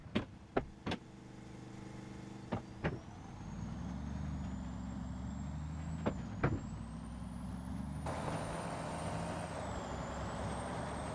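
A new farm tractor idles with a steady low engine drone, and a few sharp clanks and hisses come as it pulls up and stops on the road.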